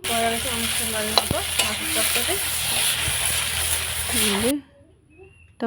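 Pieces of fish for a Bengali kalia curry sizzle steadily in a hot pan while being stirred, a continuous frying hiss with someone talking over it, ending abruptly.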